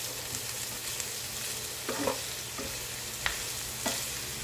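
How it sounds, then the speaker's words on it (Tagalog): Garlic and onion fry in a pan for a budget spaghetti dish, giving a soft, steady sizzle. A few light scrapes and clinks come from stirring, and no one speaks. "Pag yung nag-light brown na siya, sinunod ko na agad po yung bawang at sibuyas. Hinalo ko lang po mabuti."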